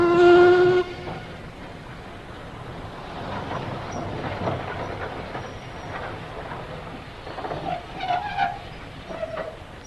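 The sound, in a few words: train in an old time radio drama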